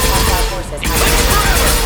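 Gunfire from a firefight in the video game Mass Effect, a dense, continuous burst of shots filling the whole moment, loud and close, with voices speaking over part of it.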